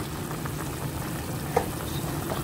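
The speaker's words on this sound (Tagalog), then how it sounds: "Pakuluan natin siya hanggang sa lumambot yung kanyang chicken." Chicken simmering in a covered pot for pancit gives a steady, moderate bubbling and sizzling hiss throughout, with a single brief clink partway through.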